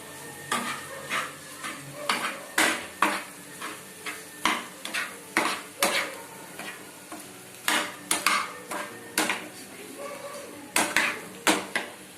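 A spoon repeatedly scrapes and clanks against a pan while stirring boiled egg fry with spices, the sharp metallic strokes coming in an irregular rhythm over a faint sizzle.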